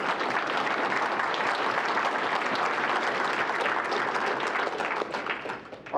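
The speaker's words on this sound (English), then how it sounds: "a nice round of applause for the CTU support staff" Audience at a Contest University livestream event gives a sustained, dense round of applause that fades slightly at the close.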